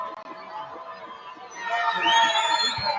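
A crowd cheers and shouts at a rugby match at Yusia Ginau Oval in Bamaga, a murmur at first that rises sharply halfway through into loud, excited yelling, including high children's voices, near and sustained.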